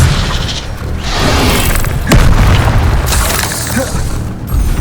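Spell effects from the video game Hogwarts Legacy: dense booming bursts and crackling magical impacts, a sharp hit near the middle, loud and continuous with no pauses.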